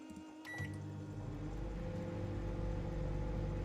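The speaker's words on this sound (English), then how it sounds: "Anything in the microwave?" A microwave in the video game Project Zomboid starts with a beep and click, then settles into a loud, steady low hum that runs on without any talking.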